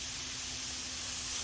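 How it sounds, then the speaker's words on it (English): A spray bottle lets out a soft, steady hiss of water mist over Snowrose (Serissa japonica) cuttings set in perlite, close and continuous for a moment. "So just a gentle mist on top of it."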